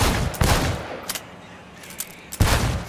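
Gunfire cracks at a shooting gallery in the video game Cyberpunk 2077, with a loud burst at the start, a few scattered shots in the middle and another heavy burst near the end.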